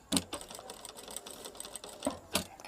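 Sewing machine set to its smallest stitch length sewing cut-work shapes on a blouse, heard as a few short, soft bursts of quick mechanical clatter with quiet gaps, fairly faint.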